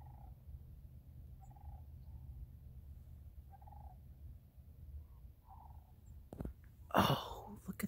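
Ducks on an Arizona homestead give faint, distant calls in short bursts every second or so over a low night ambience, ending with a louder close rustle or snort.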